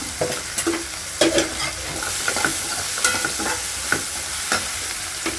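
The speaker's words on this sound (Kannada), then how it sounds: "ಕ್ಲೀನಾಗಿ ಮಿಕ್ಸ್ ಮಾಡ್ಕೋಬೇಕು" A tomato and onion mixture fries in a pan while being stirred, a steady loud sizzle with repeated spoon scrapes and knocks against the pan throughout, without speech.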